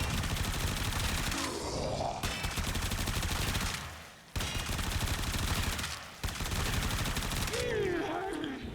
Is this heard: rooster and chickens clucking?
no